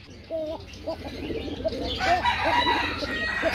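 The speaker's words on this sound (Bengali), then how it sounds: "এটা ডাকে কে? এটা কোকা ভাই। ও কোকা কবুতর।" A Koka pigeon coos close by in a series of soft, repeated calls, with some rustling background noise building toward the end.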